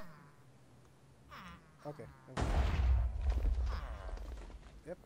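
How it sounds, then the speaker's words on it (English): A Minecraft explosion bursts in about halfway through, a loud broad blast that rumbles and decays over the next couple of seconds, following brief speech and game noises. "Yep, there's the explosion."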